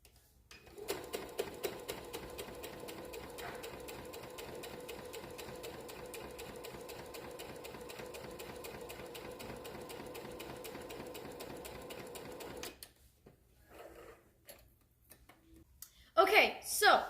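A sewing machine stitches fabric in a fast, steady run of needle strokes for about twelve seconds, then stops, leaving quiet handling noises and a brief burst of speech at the end.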